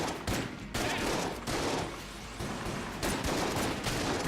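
Rapid shotgun blasts from the video game Enter The Gungeon, a dense, continuous barrage of overlapping game gunfire filling the whole stretch at steady loudness, with no talking.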